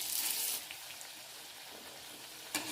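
Drumstick flower and onion pakoras fry in hot oil with a soft, steady sizzle. The sizzle is louder for the first moment and crackles again briefly near the end.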